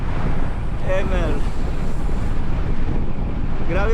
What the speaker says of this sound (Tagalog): Grabe pala tong hangin na to.